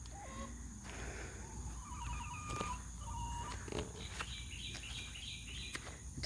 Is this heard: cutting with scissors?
no